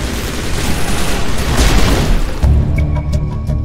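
Gunfire in Mass Effect 1, a loud dense burst of shots and booms that cuts off into a quieter stretch with a few sharp clicks and pops near the end.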